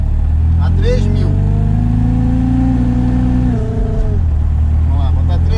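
A supercharged Chevrolet Chevette engine revs up and holds a steady higher pitch, then drops back before climbing again, loud and close, with a voice speaking over it.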